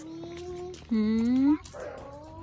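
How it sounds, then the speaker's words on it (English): A dog outdoors on a walk gives a high, drawn-out whimper that rises in pitch, bracketed by shorter whiny yelps at close range. "That's a dog here, so scary."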